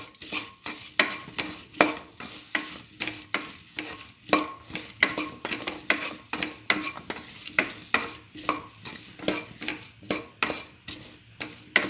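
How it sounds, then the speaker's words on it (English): Eggplant, bread and mint stir-fry is turned in a pan with a utensil, giving steady rhythmic scraping and clinking strokes over a soft sizzle, close and regular throughout. "Thoroughly mix for 10 to 12 minutes"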